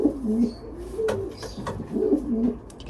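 Young racing pigeons coo close by, a series of soft, throaty, rolling calls repeating in short bursts with faint chirps between them and no talking.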